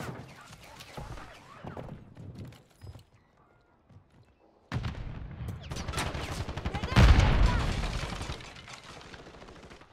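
Automatic gunfire in the shooter game Warzone 3 rattles in rapid bursts, sparse and muffled at first, then louder and denser in a sustained barrage with sharp impacts in the second half.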